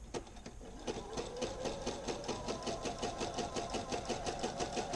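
A sewing machine stitches along a curve in pants fabric from a Simplicity 2481 pattern, running in a steady, rapid rhythmic chatter that starts slightly slower and holds an even pace throughout, close and clear with no talking.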